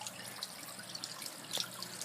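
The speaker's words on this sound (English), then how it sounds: "now you can see the waterfall is starting up, and the water is slowly coming down" Water spills steadily down a koi pond waterfall as it starts up, a continuous splashing trickle with small bright drips, moderately close and alone without voices.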